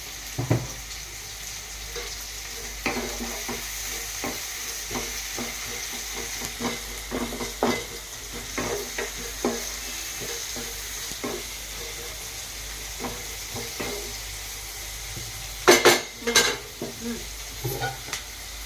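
Onions and green chillies frying with salt in a pan while being stirred, a steady sizzle broken by repeated scraping strokes and a few louder clanks near the end, close up with no talking.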